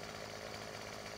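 A chainsaw cutting tree branches during roadside pruning in Farming Simulator 15, a steady buzzing engine drone held at constant level throughout, alone and moderately close.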